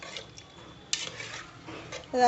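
A spoon stirs vegetable kichadi with turmeric and salt in a pot, giving soft, quiet scraping and clinking against the metal with a few faint knocks.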